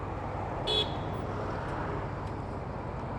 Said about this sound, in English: Are they honking at me? What are they honking at?